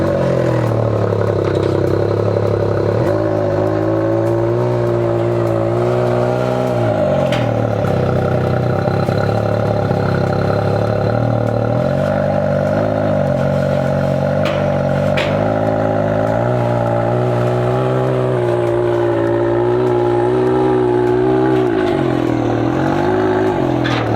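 Can-Am Maverick X3 UTV engine revving loudly and continuously, rising and falling in pitch as it strains and clatters up loading ramps onto a truck, close by.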